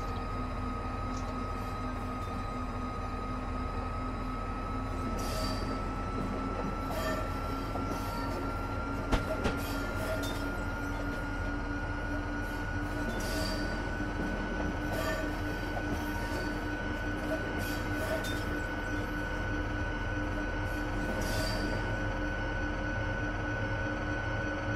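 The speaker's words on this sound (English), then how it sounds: "This is the train to New London." Steady rumble of a moving Shoreline East passenger train between New Haven and New London, with faint track clatter and a brief high squeal, continuous and close throughout.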